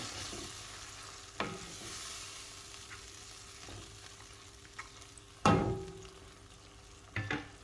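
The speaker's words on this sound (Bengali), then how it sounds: "সুতিটারে শুটকিটারে আমি ভালোভাবে নাড়াচাড়া করিয়া মশলার সাথে মিক্স করিয়া নেব" Dried chanda fish with spices sizzles quietly in a pan while a spatula scrapes and stirs it, with a few sharper knocks of the utensil against the metal.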